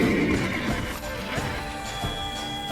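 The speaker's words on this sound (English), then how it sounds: "Come on, you bloody horse." A horse whinnies loudly in The Witcher 3: Blood and Wine, followed by hoof clip-clops and a few sharp impact thuds in the game's soundscape, with no talk over it.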